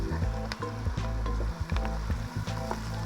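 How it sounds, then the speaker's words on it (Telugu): Sliced onions fry in oil in a pan for chicken fry piece biryani, sizzling loudly and steadily, with repeated scraping and clacking as a utensil stirs them. "చూడండి, ఈ రకంగా తిప్పుకుంటూ ఉండాలి. ఎక్కడ అడుగంటకుండా తిప్పుకోవాలి. ఉల్లిపాయలు మొత్తం ఒకే కలర్ వచ్చేలాగా వేపుకోవాలి మనము."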